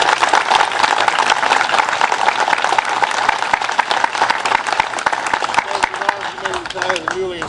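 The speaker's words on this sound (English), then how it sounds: "give him a round of applause," An audience at a Memorial Day American Legion ceremony gives newly installed officers a loud round of applause, dense close clapping that tapers as a voice begins near the end.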